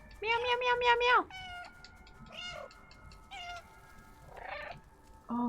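A cat meows in the video game Stray, several short calls with pauses between, one loud run of quick meows at the start. A voice also imitates meowing, blending in among the calls.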